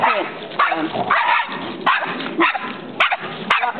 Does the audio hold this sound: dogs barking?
yes